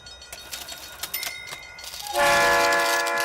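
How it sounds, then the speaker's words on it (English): A Twitch hype train alert plays on a sports talk stream, a sudden loud sustained train-like horn and rumble that kicks in after a couple of seconds of quieter clicking background. "it's a hype train!"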